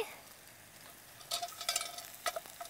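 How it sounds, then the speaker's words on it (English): Chicken sizzles in a pan with scattered crackles and scraping stirs, quiet at first and then busier. "Oh yeah, it's looking good. Sizzling away."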